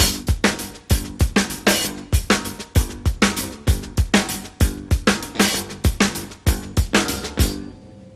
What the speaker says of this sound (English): maybe accent with the snare and open the hi-hat there?